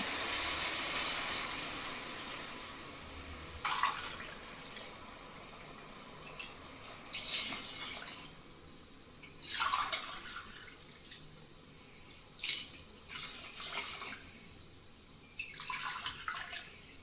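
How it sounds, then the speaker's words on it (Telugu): Water poured from a glass into a pot of rice for khichdi, in several separate bursts of splashing and running water, each lasting a second or two, over a steady background hiss. "ఇప్పుడు దీంట్లో వాటర్ పోద్దాం."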